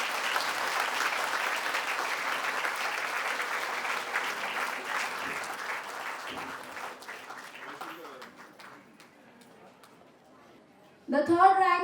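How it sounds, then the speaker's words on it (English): Audience applause for school toppers at an annual day celebration, a dense round of clapping that slowly thins and fades over about ten seconds before a voice starts speaking at the end. "A huge round of applause for the toppers."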